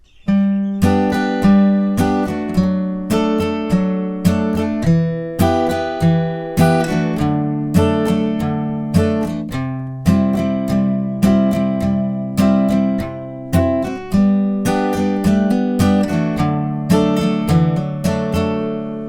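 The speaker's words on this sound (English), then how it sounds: "In total, the whole verse will sound like this." An acoustic guitar strums the verse chord progression of a song alone, steady rhythmic strokes over nearly twenty seconds, each chord ringing out before the next.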